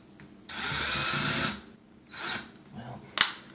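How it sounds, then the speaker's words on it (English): A power drill bores pilot holes in wood for a fixture box in a wall without studs, with one loud whirring burst of about a second, then a shorter burst and a brief final zip, close up. "I'm going to drill those pilot holes real quick."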